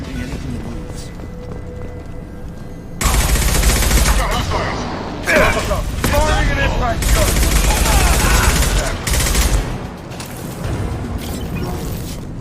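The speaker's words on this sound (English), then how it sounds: "Blue Suns and Vorcha shooting anything that moves." Loud bursts of automatic gunfire from Blue Suns mercenaries and Vorcha in the Mass Effect 2 video game, dense and sustained in heavy volleys with brief lulls, mixed with mechanical clatter and game effects.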